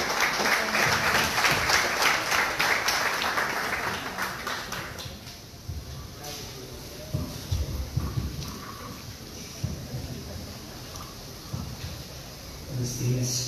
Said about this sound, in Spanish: Un fuerte aplauso para él, por favor.